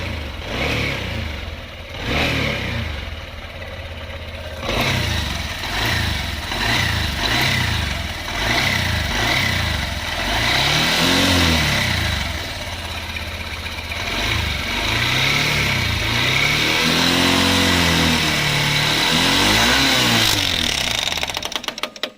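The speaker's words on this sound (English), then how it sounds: "with that new piston in, the engine's definitely making a slightly different noise" A Honda motorcycle engine with a newly fitted piston revs repeatedly in short bursts, rising and falling in pitch, then holds longer, louder revs near the end, all close and without talk.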